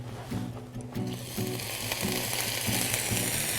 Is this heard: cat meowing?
no